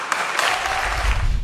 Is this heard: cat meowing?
no